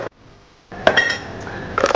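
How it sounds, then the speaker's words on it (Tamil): Ice cubes clink and rattle into a glass holding pomegranate juice for a rose mocktail, a few sharp knocks followed by a busy jumble of clinking, close and fairly loud. "சிரப் தேவையான அளவு ஐஸ் க்யூப் ஆட் பண்ணிக்கணும்."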